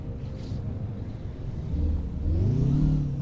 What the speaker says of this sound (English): So let's start her up and check it out.